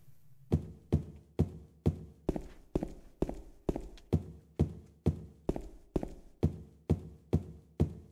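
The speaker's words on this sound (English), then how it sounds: "I wonder who was stepping that they recorded their footsteps for every single game ever made." Footsteps in the video game Silent Hill 2, a steady run of about fifteen evenly spaced, heavy clumping steps, close and clear with no talk.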